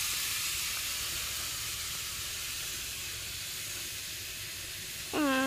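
Bottle gourd pieces dropped into hot oil in a home kitchen give a steady, loud hiss of frying that holds evenly throughout, with a brief clatter near the end.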